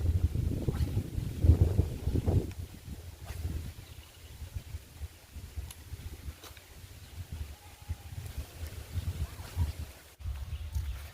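Wind buffets the microphone on a river while fishing from a boat, gusting loudly in the first few seconds and then settling into softer, uneven rushes.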